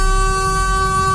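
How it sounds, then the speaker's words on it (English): A bus horn sounds in one steady, loud sustained blast lasting the whole moment, on a narrow road on the Isle of Axholme along Isle Coaches route 291. "So you've heard the horn now of the bus"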